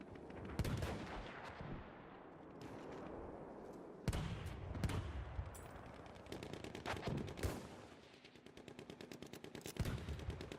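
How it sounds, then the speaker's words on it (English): Enemy artillery and gunfire in the Project Ghazi war video game: repeated sharp, loud blasts and bursts of shots over a continuous battlefield rumble, with rapid machine-gun-like rattles toward the end. "Enemy artillery."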